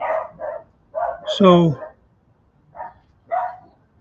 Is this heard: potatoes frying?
no